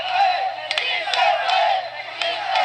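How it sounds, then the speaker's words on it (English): Migrants gathered on the bank of the Suchiate River cheer and gasp as one, a steady roar of many voices with a few sharp whoops and claps poking out. "The migrants on the bank of the Suchiate gasp and cheer as she is lowered to the raft"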